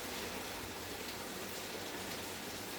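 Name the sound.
rain falling outside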